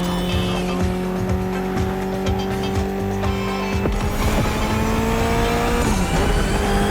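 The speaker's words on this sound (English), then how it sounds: "Mitsubishi gave us a nice inline four-cylinder with already 280 horsepower." Mitsubishi inline four-cylinder car in The Crew Motorfest roars at steady high revs, with tire squeal and skidding layered over the engine note and a shift in pitch partway through.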